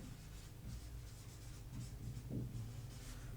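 A teacher writes on a classroom board during a lesson, producing soft, steady scratching and rubbing strokes at low volume, with a slightly firmer stroke near the end and no talking.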